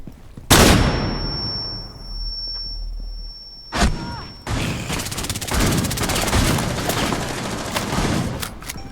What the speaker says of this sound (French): Tire par le mur à droite, Fares, c'est une de tes meilleures chances.